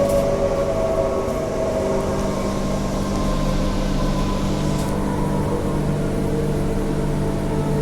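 A Transperth suburban train rolls into Thornlie station, its steady low rumble and whining motor tones filling the carriage at constant volume, no voices heard.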